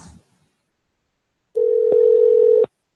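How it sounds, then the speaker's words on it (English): A telephone line, calling an unmarked number, plays one steady tone of about a second after a stretch of silence. It is clear, close and alone. "So let's call another number."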